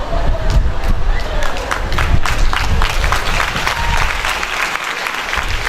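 An audience at a preaching event bursts into dense, loud applause, a continuous wash of clapping with voices and crowd murmur mixed in throughout.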